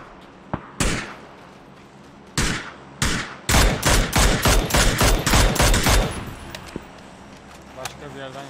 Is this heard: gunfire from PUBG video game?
yes